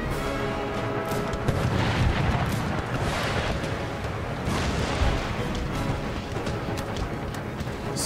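Artillery fire in the Empire Total War battle game, loud deep booms and rumbling cannon blasts overlapping continuously throughout.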